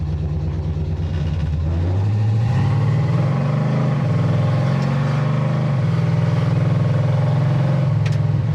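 A 1967 Chevrolet Chevy II Nova engine idling low, a loud steady rumble with a slightly uneven, lopey pulse, close by and continuous.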